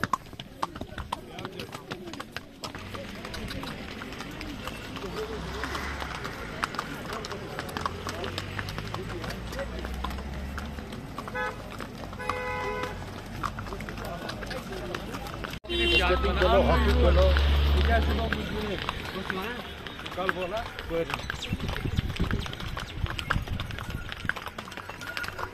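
A horse walks with a rider through a mountain valley at Gulmarg, its hooves clip-clopping steadily at close range beneath ongoing chatter from people nearby.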